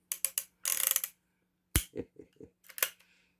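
Close, crisp metallic clicks and ratcheting from the action of a Ruger Blackhawk .30 Carbine single-action revolver, a quick run of clicks, a longer grinding ratchet, then a sharp snap followed by a few softer clicks, with no talk.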